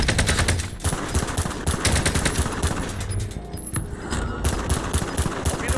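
Sustained, dense automatic fire from an enemy sentry gun on Rebirth Island in Call of Duty, rapid rounds rattling continuously with busy game ambience and no pauses.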